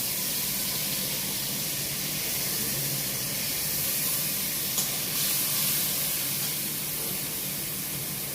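Ground cashew and melon seed paste with ginger and chili frying in oil in a pan, a steady broadband sizzle and hiss that holds evenly throughout, close and unbroken.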